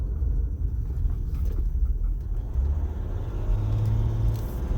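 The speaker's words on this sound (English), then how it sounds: "car coming" A car passes on a rural riverside road in the fall, a steady low rumble heard from inside a diesel Jeep Gladiator towing a trailer, swelling slightly as the vehicle goes by, with no talk.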